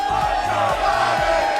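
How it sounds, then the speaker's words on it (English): A political crowd chanting "Let's go, Brandon" in a steady repeated rhythm, many voices shouting together loudly and close, the chant phrase cycling about every half second with a continuous roar beneath. "As you can hear the chants from the crowd."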